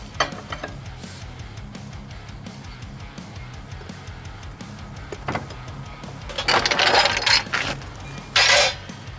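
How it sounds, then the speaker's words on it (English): A car jack is lowered beneath a 2000 Toyota Camry XLE 3.0L V6 during rear strut replacement, with faint mechanical clicks followed by a couple of brief, louder hissing bursts as it releases. "Lower down the jack."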